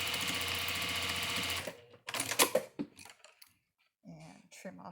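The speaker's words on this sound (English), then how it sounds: "this machine does not have a zigzag, so I have to do a straight stitch with it" A domestic sewing machine without zigzag runs a straight stitch on a pleated fabric face mask, a fast steady whir for over a second that stops, followed by clicks, handling noises and brief speech.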